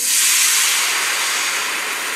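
A loud, steady sizzling hiss of white wine steaming in a hot pan of chicken cacciatore, close up, fading slightly over a couple of seconds.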